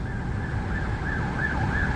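An ambulance siren sounds in Thailand traffic near the Nana area of Bangkok, a steady wavering wail fairly close, over a heavy constant rumble of road noise and engines.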